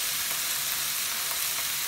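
Onions salted and frying in a pan for fish curry, giving a steady, even hiss of sizzling that stays constant and close, with no talking.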